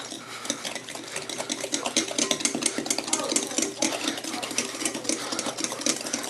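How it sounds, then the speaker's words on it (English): A utensil beats and mixes ingredients in a bowl for an old recipe more than 110 years old, giving rapid, continuous scraping and clinking strokes up close with no talk. "Just gonna beat it, basically mix it together so that it, works."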